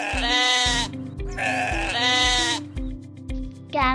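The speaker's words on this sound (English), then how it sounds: "Sheep" A sheep bleats loudly and close by, several wavering calls in a row with short pauses between them.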